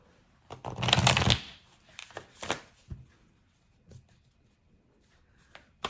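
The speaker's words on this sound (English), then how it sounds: "I'm going to shuffle them" Tarot cards, slightly sticky, are shuffled by hand in a loud riffling burst, then several softer separate slides and taps of the deck, close up with no talking.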